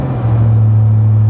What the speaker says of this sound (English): So hopefully you guys can hear the drone right now